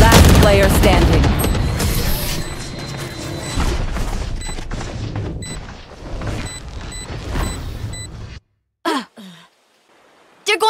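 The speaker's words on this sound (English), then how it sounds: "Grenade!" A loud grenade blast in the shooter game Valorant bursts amid dense gunfire and explosions before cutting to near-silence, with a short voice fragment near the end.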